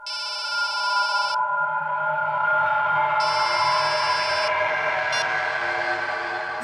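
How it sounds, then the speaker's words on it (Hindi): A mobile phone rings in a repeating electronic tone, two bright bursts a few seconds apart over a steady mechanical hum. "मैडम आपका फोन बज रहा है।"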